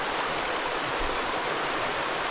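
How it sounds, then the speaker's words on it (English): A creek in Solstice Canyon, Malibu rushes steadily nearby, a dense, even wash of flowing water with no voices or other sounds over it. "then we have the creek"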